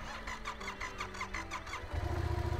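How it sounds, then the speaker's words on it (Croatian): A motorcycle engine cranks with a quick, rhythmic chugging of the starter, then catches and settles into a loud, steady running rumble near the end. "Mile, molim te, startaj zvjer."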